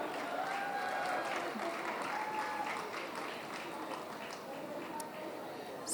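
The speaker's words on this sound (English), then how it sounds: "Round of applause" Audience applause at a panel-discussion women's show, a steady wash of clapping from a crowd that holds through the whole stretch, with voices and brief speech over it.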